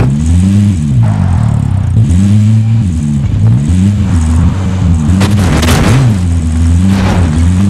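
A car engine in Call of Duty: Modern Warfare revs loudly and repeatedly while driving, its pitch rising and falling in waves, close and dominant throughout.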